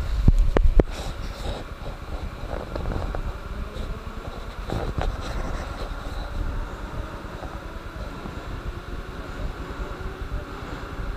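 A Moscow-2020 metro train on the Moscow circle line, heard from inside as a steady rumbling roar of wheels and motors, with a few sharp clanks near the start and no speech.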